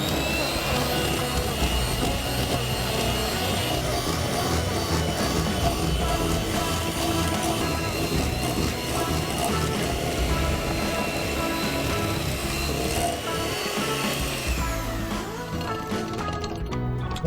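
Electric mixer beating Christmas cake batter made with water and refined oil, a dense continuous whirring and rattling that runs steadily and close before easing off at the end.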